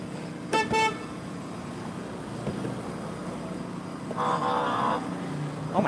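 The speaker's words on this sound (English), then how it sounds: "We finally got a Cybertruck honk." A Tesla Cybertruck horn sounds outdoors, a short double toot near the start and a longer sustained blast later, amid street traffic noise.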